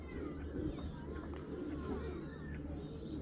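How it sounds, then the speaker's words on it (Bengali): Low, soft cooing of a ringed domestic pigeon, a large hen, heard as a steady murmur among other birds in a pigeon loft, with faint chirps above a continuous low hum. "খুব সুন্দর একটা রিংয়ের কবুতর"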